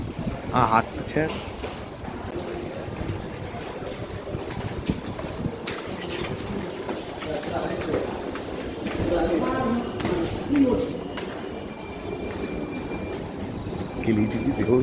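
A metro train runs toward Esplanade with a steady, rumbling ride noise and some clattering throughout, while voices talk over it.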